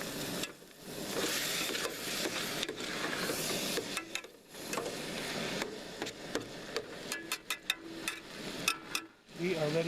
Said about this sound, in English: Go ahead and give that a nice mix.